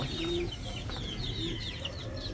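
Laying hens clucking on a farm, a steady mix of soft clucks and murmurs from several birds close by, continuous with no talk.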